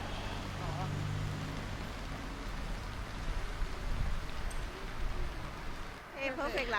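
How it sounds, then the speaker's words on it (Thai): Rain falling at Kinkakuji Temple in Kyoto, a steady close hiss of drops with a faint background rumble and a brief stir of other sounds near the end. "ตอนนี้เม็ดฝนเริ่มเล็กลง แต่ถ้าไม่กลางร่ม ก็เปียกได้ค่ะ"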